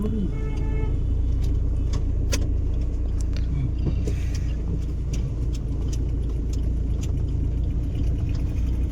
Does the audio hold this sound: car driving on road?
yes